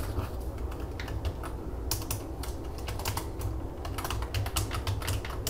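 Rapid clicking of typing on a computer keyboard, close and continuous, with irregular bursts of keystrokes over a low background hum.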